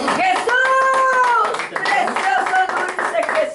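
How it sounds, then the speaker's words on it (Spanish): A church congregation applauds, a dense round of clapping beneath loud voices praising and shouting over it. "Denle un aplauso fuerte al Señor"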